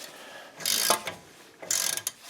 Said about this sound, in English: let's torque this sucker down with your 21mm or 13/16 of an inch socket, deep well socket